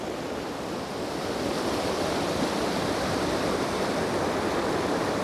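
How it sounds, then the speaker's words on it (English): Water roars over a busted pipe in a stream along an abandoned rail line, a loud, steady, broadband rush that fills the whole stretch without pause. "The water roaring over."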